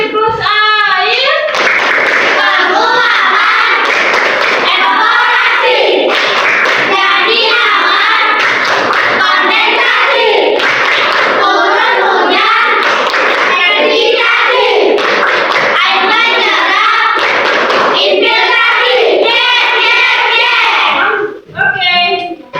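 A school class claps in a rhythmic water-cycle routine led by a teacher, with loud, close patterned hand claps mixed with children chanting together almost without pause.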